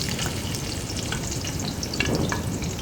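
Onions sizzling in hot oil and ghee, browning for a chicken chickpea curry, a steady dense frying crackle with occasional stirring scrapes, close and alone.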